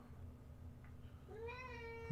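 A single cat meows once near the end, a short rising call over a low background hum.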